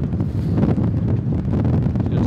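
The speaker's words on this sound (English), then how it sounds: "Apologies about the wind, you know," Steady wind buffeting a microphone on an exposed lakeside fishing bank in cold weather, a continuous low roar with gusty rustling throughout and no talk.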